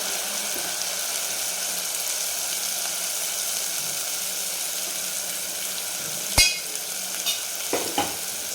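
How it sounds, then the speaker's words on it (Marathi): Ground masala paste roasting in oil in a pan, a close, even sizzle throughout, with a few sharp spoon scrapes and knocks near the end, no talk. "उरलेलं पूर्ण वाटण टाकून द्यायचं. त्यालाही छान तेलामध्ये खमंग असं भाजून घ्यायचं"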